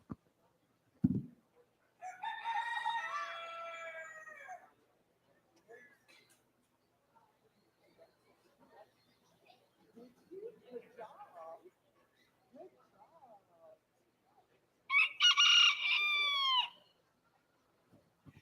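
An Old English game rooster at a junior livestock poultry show gives two loud, full crows, one early and one near the end, with people talking quietly in between.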